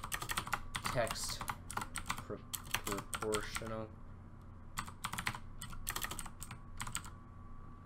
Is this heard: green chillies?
no